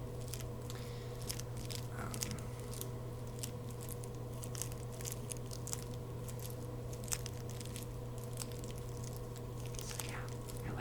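Crunchy food chewed close to the microphone, a run of crisp, irregular bites and crunches over a steady low background hum, with no talking.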